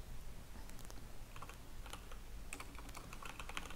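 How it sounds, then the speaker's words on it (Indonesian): Rapid typing on a computer keyboard, with irregular clusters of close, crisp key clicks running steadily throughout without any voices. "Keyboard saya agak aneh."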